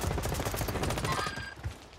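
Rapid automatic gunfire bursts in Warzone on the Fortune's Keep map, dense rattling volleys filling most of two seconds before tapering off, fairly loud with no talking.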